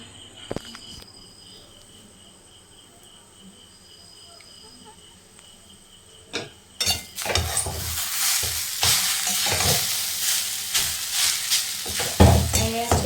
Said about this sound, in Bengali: এরপর চাউমিনটা রান্না করছি।